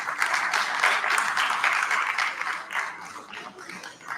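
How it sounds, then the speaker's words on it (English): Audience applause at a tech talent league event in Pune, a crowd clapping steadily as someone is welcomed on stage, moderately loud and fading slightly toward the end. "Please give him a round of applause."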